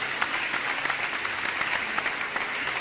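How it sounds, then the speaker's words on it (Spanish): Church congregation applauding steadily during a Spanish-language sermon, a dense, continuous wash of many hands clapping at close-to-moderate distance with no voices on top. "aplaude al Dios que vive"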